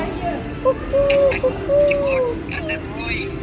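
Soft, hollow bird coos rise and fall in a short series, with a faint hum and light background noise underneath.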